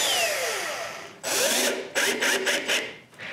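A drill bores shallow hinge holes in a walnut clock case, a whirring motor that spins up with several short bursts and stops, close and loud with no talking.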